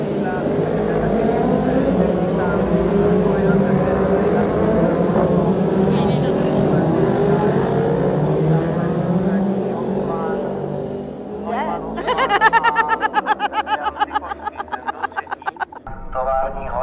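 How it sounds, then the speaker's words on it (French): People talk at first, then a motorcycle engine approaches and grows loud with rising, throbbing revs. "il y a une moto qui arrive"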